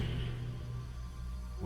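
Low, steady ambient drone of the barrow in the game URU, a continuous hum with faint airy texture and no talk, ending in a brief rising tone.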